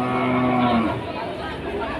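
Limousin and Pegon cattle at a livestock market in Java; a single loud, close moo lasts about a second over busy market crowd noise.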